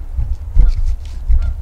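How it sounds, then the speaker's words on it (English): Goose honking outdoors near a river, a few rough calls spread across the clip over low rumbling background noise, moderately close. "Goose."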